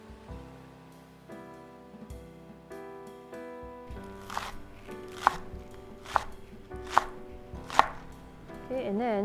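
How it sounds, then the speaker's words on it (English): A knife chops scallion on a cutting board, first low thuds and then a run of about six sharp, evenly spaced clicks, close and fairly loud with no talking. "Chop the scallion."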